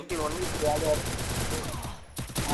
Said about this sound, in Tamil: VSK 94 பயங்கரமா அடிக்குது. அது ஸ்னைப்பர்